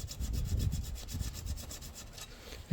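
Steady rhythmic rasping strokes of a small whetstone against a valve lifter from an Opel Omega B X20SE engine, close by, repeating back and forth with no talking.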